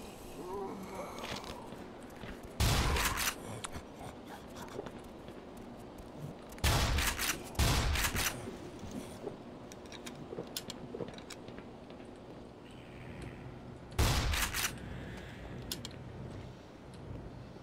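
Gunfire in the Black Mesa video game comes in a few sharp, loud bursts separated by long stretches of quieter in-game ambience.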